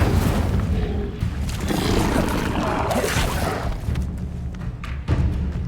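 Levioso and Incendio spells are cast in the video game Hogwarts Legacy, producing a dense, steady wash of magical whooshing with deep thumps and booms, loud and continuous through a busy game soundscape.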